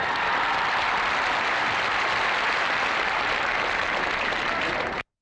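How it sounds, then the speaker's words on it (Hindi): Steady, dense applause from a college audience welcoming a guest at a prize-giving ceremony, loud and continuous for about five seconds before cutting off abruptly. "तो आइए हम उनका तालियों के साथ स्वागत करें।"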